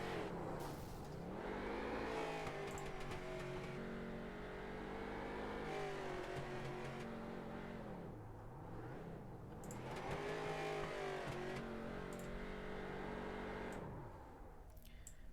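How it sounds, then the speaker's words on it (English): A race car in a sim racing game doing celebratory burnouts, its engine revving hard in long rising and falling sweeps, loud and close with a steady roar and no talk. "Bryn does his burnouts for your race win"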